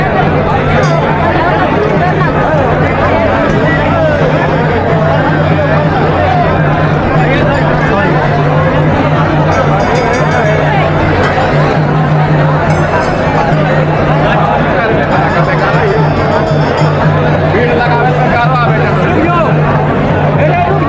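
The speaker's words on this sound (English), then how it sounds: "Today is Monday and you can see the crowd completely." Crowd chatter fills a temple on a Monday, a loud continuous babble of many voices with steady background hum and engine-like rumble, with no single voice standing out.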